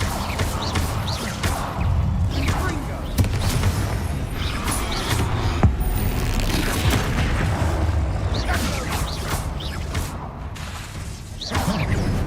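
A fire spell is cast in Hogwarts Legacy in a snowy winter setting, with whooshing bursts, booming impacts and crackling mechanical clatter running steadily through about twelve seconds of dense game sound.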